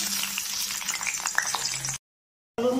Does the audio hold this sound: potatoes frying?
yes